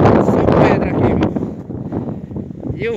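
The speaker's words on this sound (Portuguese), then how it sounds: "E o vento é forte." Strong wind gusts across a rocky hilltop in the Serra do Pedro area of Pernambuco, buffeting the microphone in a loud, continuous roar that eases slightly midway, with a voice speaking underneath.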